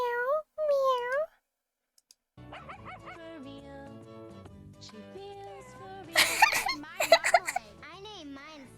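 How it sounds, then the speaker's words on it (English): Tiger Electronics toy cat giving repeated electronic meows, close and clear, with toy-like tonal calls, bursts of noisy sounds and voices in between. "Did you hear it? It was like meow, meow."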